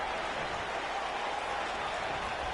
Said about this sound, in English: You can hear the crowd in the background.